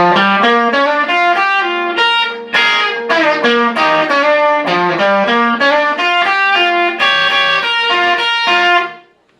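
A distorted electric guitar plays a fast, melodic solo from the Vaughan Brothers song "Hard to Be," quick note runs, loud and sustained, with no voices, ending abruptly after about nine seconds.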